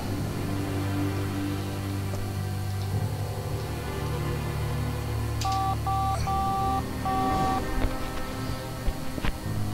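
Cell phone keypad tones from The Da Vinci Code video game, a quick series of short dialing beeps in an uneven rhythm over a low droning game background.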